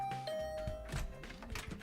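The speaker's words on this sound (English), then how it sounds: "I rang the bell by the side of the door." A doorbell rings beside a door in a video game, a single clear electronic chime that rings out and fades, followed by a few soft thumps.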